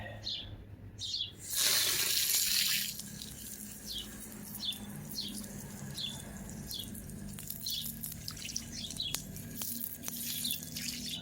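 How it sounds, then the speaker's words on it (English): Tap water runs briefly to rinse parts of a Nintendo 64 console, loud gush for about a second, then faint drips with birds chirping outdoors in the background. "Let's just rinse it off real quick."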